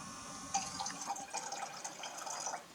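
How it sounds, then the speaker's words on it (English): Fresh water trickling and splashing into a glass of salt water holding an egg, a continuous soft pour with small bright drips throughout, close and fairly quiet, no talking. "Let me add water to this one so you can see what happens when you add more water, more fresh water and less salt."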